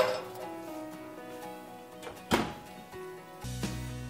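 A metal roasting pan holding a prime rib is put into an oven, with clinks and scrapes, a sharp clunk midway, then a dull thud of the oven closing near the end.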